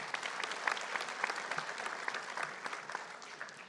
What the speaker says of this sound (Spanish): Queremos también un fuerte aplauso para él.